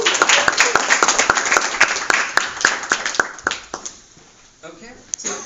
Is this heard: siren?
no